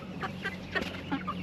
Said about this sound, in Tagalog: Sisiw na manok.